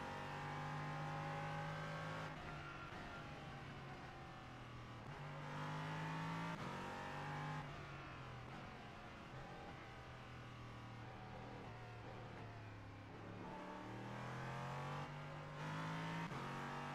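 A race car engine in the iRacing sim roars steadily throughout, rising and falling in pitch as it revs up and eases off through gear changes, loud and close with no talk over it.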